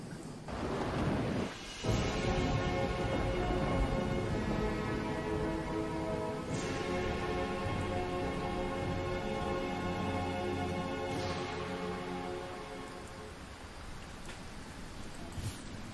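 Steady video game rain hiss fills the scene with a low rumbling undertone and occasional swells, layered over a sustained tonal background, with no speech.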